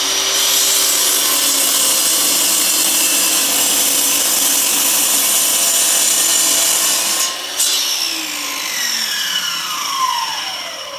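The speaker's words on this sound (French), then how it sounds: "je positionne ma bûche, je fais une première coupe pour me mettre perpendiculaire à ma lame" A saw cuts slices from a wooden log set perpendicular to the blade, a loud, steady grinding rasp of blade through wood that runs continuously, then briefly pauses and resumes near the end.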